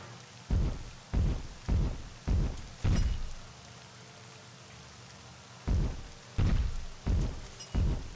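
Rain falling in the theme-park game Rollercoaster Tycoon 3: a steady hiss of rainfall broken by a string of loud, rhythmic rumbling bursts, about nine in all with a quiet gap midway, no talking.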